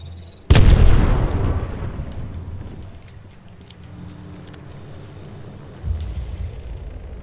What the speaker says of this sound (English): Throw an arc star.